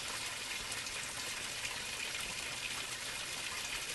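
Water drains steadily through an aquaponics siphon, a continuous faint hiss and trickle with no breaks or voices.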